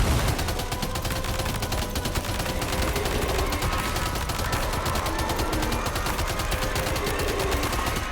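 Sustained rapid gunfire in the video game Death Stranding 2: On the Beach, a dense, steady barrage of shots running continuously at even loudness with no pauses or speech.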